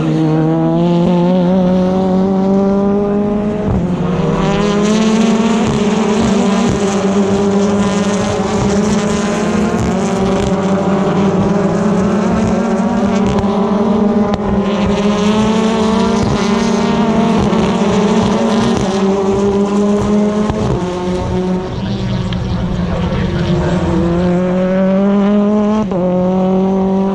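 BTCC touring cars racing at Snetterton in 2021, an engine screaming loud and close as it climbs through the gears with brief dips at each shift, held at high revs throughout.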